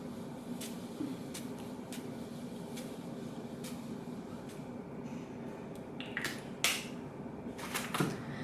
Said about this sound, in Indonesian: Sekarang Cynthia akan aplikasikan di wajahnya Cynthia, tinggal disemprot-semprot aja